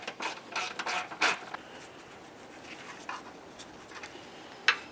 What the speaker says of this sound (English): I'll use a 15 millimeter with my stubby ratchet.